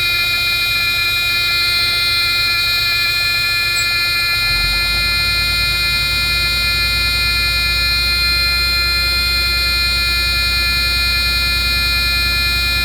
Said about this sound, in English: Sorry about the buzzer, but the air leaks out of this truck when it's cold.